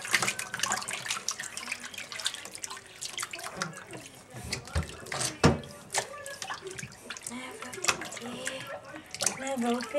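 A baby splashing in bathwater, with irregular splashes and trickling water, close by and fairly loud, under an adult's cooing talk.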